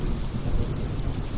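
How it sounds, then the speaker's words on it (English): Steady rain with a low rumble of thunder fills a dense, continuous storm ambience, with no voices present. "All right, so it's raining, guys."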